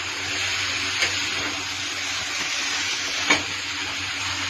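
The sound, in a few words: stir-frying mixed vegetables in a pan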